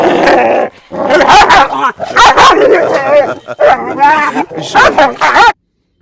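Several large Kangal dogs in a cage bark and yelp frantically and continuously, loud and close, with overlapping barks and whines.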